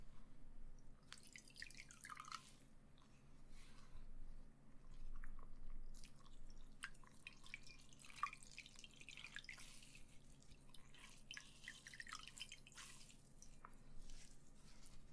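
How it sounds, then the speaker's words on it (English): Water drips and trickles softly from a towel dipped in warm water during a quiet, close skincare routine, with small irregular splashes and faint handling sounds against near silence. "Then I'm going to take this towel,"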